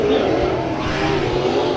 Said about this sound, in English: 3 cars racing for the win.